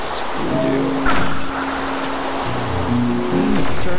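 Steady rain falls in the blocky survival game Minecraft, a dense, even hiss filling the whole stretch, with faint tonal game sounds drifting underneath and no voices.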